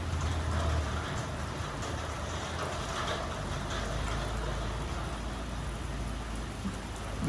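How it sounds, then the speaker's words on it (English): Steady rain pours outdoors during a winch bumper install on a Land Rover TD5 4x4, a dense, constant hiss close by with a low rumble underneath and no talk. "this rain is actually not helping us"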